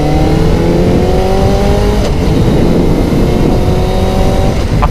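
Kawasaki ZZR600 motorcycle riding along a country lane, its engine droning loudly and continuously with shifting pitch as it runs under steady wind rumble.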